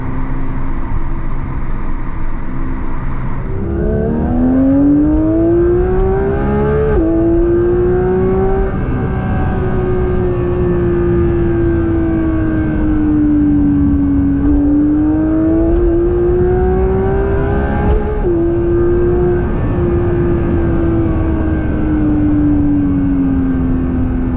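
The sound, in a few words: Porsche sports car engine revving at high RPM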